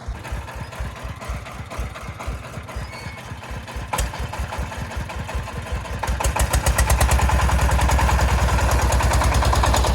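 A tractor engine idles with rapid, even low knocking pulses while hauling hay on a trailer, the chugging growing louder and denser toward the end.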